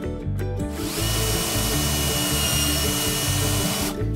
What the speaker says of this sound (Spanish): ahora hacemos, utilizando la misma broca, un agujero, en este caso un agujero ciego, para poder fijar la pieza